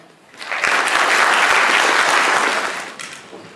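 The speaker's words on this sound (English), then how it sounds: "Let's please clap for Lauren." A concert audience at a charity event bursts into loud, dense applause that swells quickly, holds steady for a couple of seconds, then tapers off.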